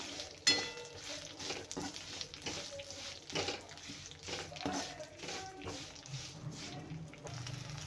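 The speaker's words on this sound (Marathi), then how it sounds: "हे छानपैकी भाजून घेऊया" Sesame seeds dry-roast in a pan with light, irregular scraping and rustling as they are stirred, a faint crackle running underneath at low volume.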